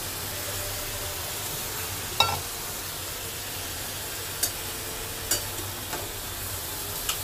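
Fish heads go into a pan of sizzling vegetables for a Bengali shukto and get stirred: a quiet, steady fry hiss with a few sharp clinks and scrapes of the spoon scattered through.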